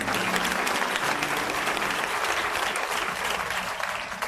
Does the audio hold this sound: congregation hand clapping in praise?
yes